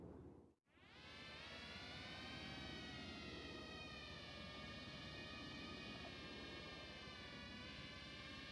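A drone flies in a GTA roleplay game, giving a steady, unbroken whining hum that sets in after a brief drop and then carries on alone at low level.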